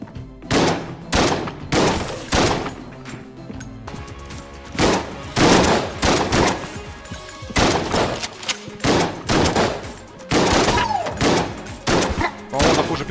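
Sawed-off shotgun blasts in the roguelike game Enter the Gungeon: loud, sharp bursts fire in irregular clusters with short gaps, over a continuous bed of game music and effects.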